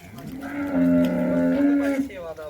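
A freshly calved Nili-Ravi buffalo lets out a single long, close, resonant moo that swells and fades over about two seconds, with faint background murmur.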